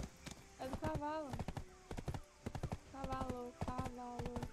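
A horse's hooves clip-clop steadily in the video game Black Desert, a quick, even run of close hoofbeats with a few whinny-like tones mixed in while players talk over the top.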